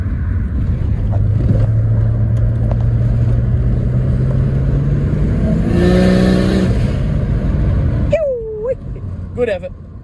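A Ford Falcon EL XR6 Turbo with an automatic gearbox revs while driving, a loud engine drone rising in pitch, heard from inside the car with a window cracked, and a voice briefly talks near the end.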